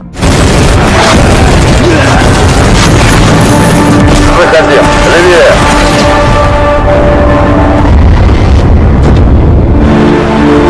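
A car blows up in an action-film battle scene: a loud, sustained roaring blast with rumbling debris and engine noise that fills the whole stretch at high volume.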